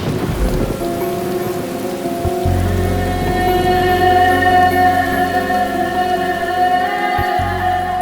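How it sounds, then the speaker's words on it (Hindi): Heavy rain pours steadily in a movie scene, a dense loud wash of water with a low rumble of thunder, overlaid by sustained dramatic music tones. "एक तो बारिश भी बहुत ज्यादा है"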